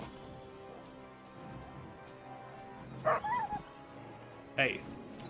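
Wolves yelp and whimper in two short, high bursts over a steady background in the video game Kingdom Come: Deliverance II, with a voice talking throughout.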